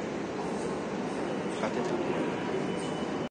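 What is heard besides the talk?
metro train arriving at platform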